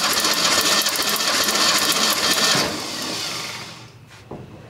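A car engine cranks over steadily on the starter during a compression test, giving a rapid, even churning whir that rises in pitch and then winds down and fades.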